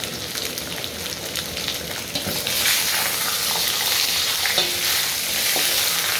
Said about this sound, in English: I'm just adding to this the fat and let it stay on there until it gives you enough oil.